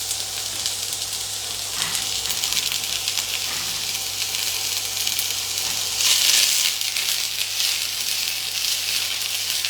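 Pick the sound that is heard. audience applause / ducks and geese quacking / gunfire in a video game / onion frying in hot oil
onion frying in hot oil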